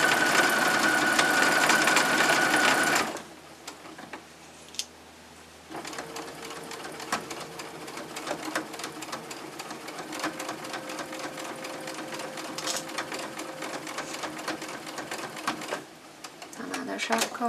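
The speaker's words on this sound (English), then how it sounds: "press the foot down and carry on sewing" A sewing machine stitches an exposed-core cloth pad, whirring steadily in bursts with brief pauses where the presser foot is lifted and the fabric turned.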